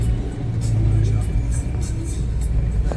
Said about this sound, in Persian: ماشین میاد.